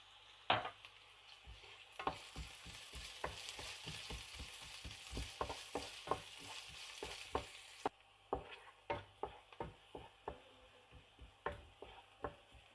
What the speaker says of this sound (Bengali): আমার পেঁয়াজগুলো এখন হাফ ভাজি হয়ে গেছে।